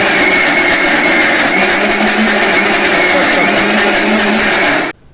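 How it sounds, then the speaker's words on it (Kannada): Mixer grinder grinding grated coconut, no water added, for kayi holige filling; a loud, steady whirring motor drone runs for about five seconds, then stops abruptly. "ಒಮ್ಮೆ ರುಬ್ಬಿದ್ದು ನುಣ್ಣಗೆ ಆಗದಿದ್ದರೆ ಇನ್ನೊಮ್ಮೆ ರುಬ್ಬಿಕೊಳ್ಳಿ"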